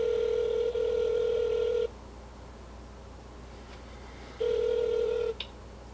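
Steady electronic ringing tones from an outgoing phone call, one long tone at the start and another later after a quiet pause, with a soft click near the end and no voices.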